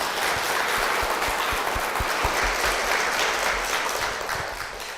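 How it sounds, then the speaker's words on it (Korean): A church audience claps steadily to welcome a guest onto the stage, a loud, sustained wash of many hands that thins out toward the end, with no speech over it. "박수로 모시겠습니다."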